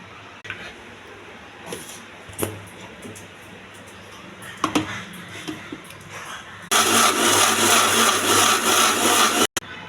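A mixie jar blender grinds mint and tomato chutney in a loud, steady whirring burst of about three seconds, cutting off abruptly after a stretch of quieter kitchen clatter and knocks.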